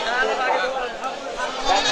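Goats bleat over a busy crowded background at a goat market, several overlapping calls close by amid general market chatter.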